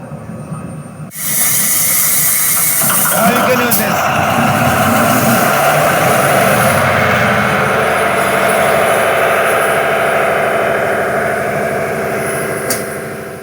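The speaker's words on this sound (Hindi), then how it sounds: "ये हमारे बड़े बड़े इंजन्स हैं जिनसे बैटरीज चार्ज होती हैं" Large diesel engines roar inside a submarine's machinery compartment, a loud, dense, continuous drone with hissing that starts abruptly after a brief quiet moment and holds steady.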